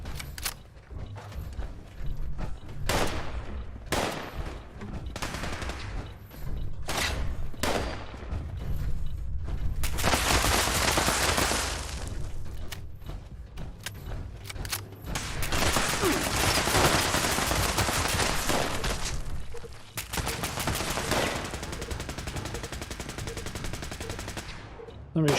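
Sustained bursts of gunfire in the online game Fallout 76, with rapid automatic volleys and scattered single shots, loud and dense for long stretches with brief lulls between.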